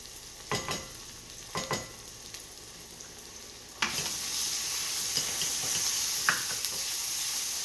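Onions frying in a pan for hot dog onion sauce, with a few sharp spoon scrapes at first, then a louder steady sizzle as the onions are stirred around.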